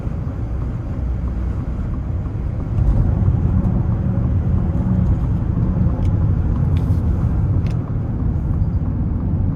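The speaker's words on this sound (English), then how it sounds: "what I'm hearing is the wind hitting the mirrors for the most part" Steady wind rushing over the mirrors inside a moving Aston Martin DBX luxury SUV, a constant broadband roar with road rumble underneath, loudness rising slightly partway through, with no talking.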